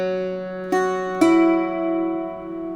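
Irish bouzouki picking single notes from the tune Miss MacDermott, three plucked notes ringing out cleanly and sustaining, close and alone.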